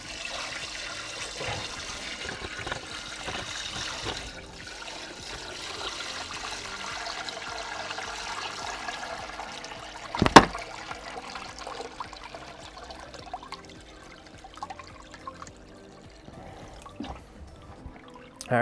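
Water is poured steadily into a Red Sea Max Nano reef aquarium during a water change, a soft continuous trickle and gurgle, close and fairly quiet, with a brief knock partway through.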